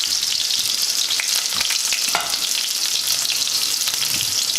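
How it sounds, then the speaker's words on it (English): Chopped onion fries in olive oil with a loud, continuous crackling sizzle and occasional scrapes from stirring. "the first thing I'm just gonna put in all of my onion"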